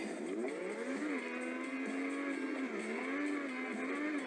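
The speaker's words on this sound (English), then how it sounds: "Even the sounds of the car just jetting past, and the engine." A steady, droning race car engine in the video game Trackmania roars continuously as the car passes, its pitch rising and falling slightly as it runs at speed, loud and close.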